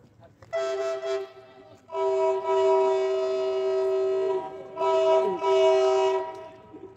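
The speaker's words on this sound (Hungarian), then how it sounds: "itt már érkezik is az utolsó járat, természetesen a kürtszó itt sem maradhatott el." A MÁV train horn blares in long sustained blasts, three loud sounds separated by brief gaps, close by as the train pulls in.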